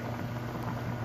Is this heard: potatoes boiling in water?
yes